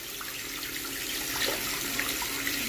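A tap runs steadily into a sink while the water for a plant is being changed, a continuous hissing splash at moderate loudness with no speech over it.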